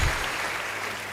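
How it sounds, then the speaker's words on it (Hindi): A crowd applauds folk artists at a live comedy show, a brief, dense wash of clapping heard without any talk. "मैं उन लोक कलाकारों के लिए भी एक तालियां आमंत्रित कर रहा हूँ"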